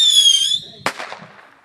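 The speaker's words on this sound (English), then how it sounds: "you do the firework right behind them" Firework set off outdoors during horseplay, a sharp crackling bang that follows a high whistling squeal, then decays with scattered pops.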